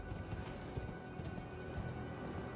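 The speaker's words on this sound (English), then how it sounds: "They're on horses." Horse hooves clip-clopping in the Elden Ring video game, a quiet, low, fairly rapid rhythmic thudding in the background with no talk over it.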